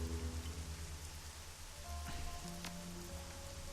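Steady rain from the video game Shadowrun: Hong Kong hisses continuously in the foreground, joined by a low droning tone and a few brief sharper taps near the end, with no talking.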